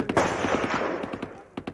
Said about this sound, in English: these days the tribesmen use their firearms the way we use fireworks